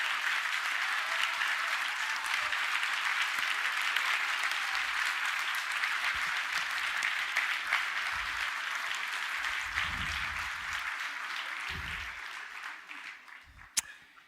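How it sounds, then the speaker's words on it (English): At a game awards event, a large hall audience claps for the volunteers, a steady, moderately distant wash of applause that tapers off toward the end, with low rumbles and a sharp knock near the close. "everybody give them a round of applause so we can see them and all of the TGA force"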